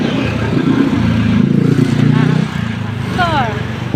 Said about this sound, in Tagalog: ang ingay naman parang music din ang mga tricycle